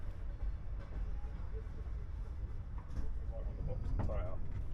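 A cross-country passenger train pulls away in Kazakhstan, heading into the Mangystau region, with a steady low rumble and soft rattling from the carriages throughout.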